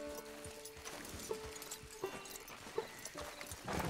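Horse hooves clip-clop at a steady walking pace in the Red Dead Redemption 2 video game, with occasional sharper accented steps and soft ambient game sound around them.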